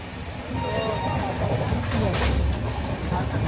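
Inside a moving passenger train in Gujarat, a steady low rumble and rattle of the carriage runs throughout, with faint squeaks, while people chat nearby over the noise.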